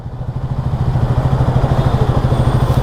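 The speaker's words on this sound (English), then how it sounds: "To check on the cold engine. This is the cold engine." A Triumph Speed 400 motorcycle idles from a cold start, a loud, close single-cylinder engine beating in a steady rapid pulse with slight clatter.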